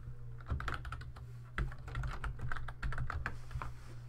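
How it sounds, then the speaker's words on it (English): Someone types on a computer keyboard with a quick, uneven run of close key clicks over a low steady hum, and nobody speaks. "I can type right in here."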